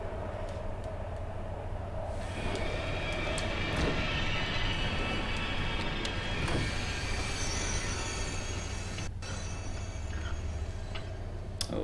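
A subway train in the horror game Here They Lie runs with a steady, loud rumbling rattle and clacking, metallic squeal overtones and sharp ticks, continuous throughout without speech.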